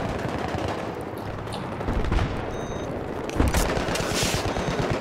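Gunfire in a Tehran map of a military shooter video game with Humvees: dense, continuous rapid bursts of automatic fire, loud and close, with a heavier blast partway through and no talk.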